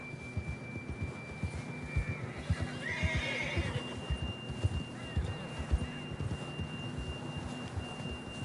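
A horse in Red Dead Redemption 2 whinnies around the middle, rising and falling, over a steady low rumble of hoofbeats and ambient hum.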